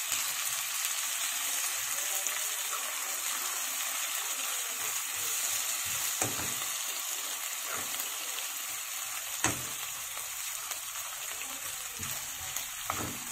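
Garlic fries in a hot pan with a steady, close hiss and crackle that continues throughout, broken by a few faint clicks of stirring.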